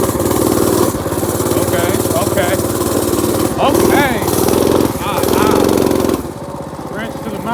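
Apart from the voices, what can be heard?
mini bike engine climbing a small incline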